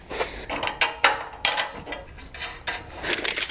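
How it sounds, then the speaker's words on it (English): A 9/16 socket wrench and ratchet tightening bolts on a trailer frame, with close, loud bursts of ratcheting clicks and metallic mechanical clatter in quick uneven strokes, no talk. "Grab your 9/16 wrench and ratchet and tighten her down."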